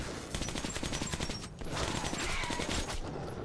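Rapid automatic gunfire from the video game Metro 2033, dense overlapping shots in sustained bursts with a brief gap midway, loud and continuous with no talking.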